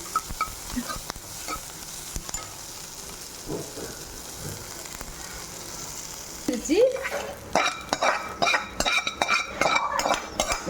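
Onions tempered in hot oil for idli sambar, a soft steady sizzle that grows louder and crackles with spoon and pan clatter toward the end.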